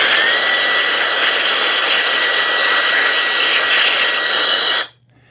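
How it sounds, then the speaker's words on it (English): A handheld blower roars loudly and steadily while drying robot vacuum parts, a high, hissing whine that holds for several seconds and then cuts off abruptly into near silence. "you're just going to blow them dry"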